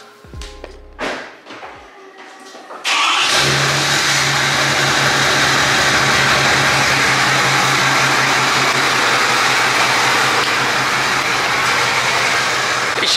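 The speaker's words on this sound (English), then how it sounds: "I'll go ahead and do a little exhaust tone inside the garage." A pickup truck engine starts with a thump inside a garage, then idles with a loud, steady, rumbling exhaust drone that continues close by for the rest of the clip.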